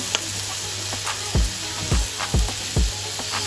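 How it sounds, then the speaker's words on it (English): Chilli garlic butter prawns sizzle on a non-stick griddle pan, a steady bright hiss broken by several soft low thuds at a fairly even pace, with no voices. "So we're just going to grill these off, get some nice griddle marks on them."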